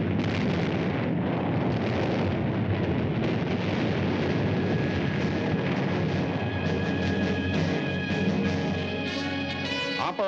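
Bombs from an aerial raid explode on an island, a continuous loud roar of overlapping blasts and rumbling booms with no talking.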